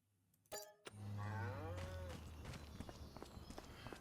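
Cattle lowing in the farming game Farming Simulator 25, a long drawn-out moo rising and falling, followed by a patter of hooves and footsteps from the herd, moderately close and fairly loud.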